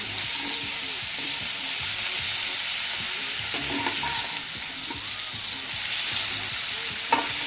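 Corn frying in a pan with a steady, close sizzle, broken by scraping stirs as the kernels are turned over, with no voices.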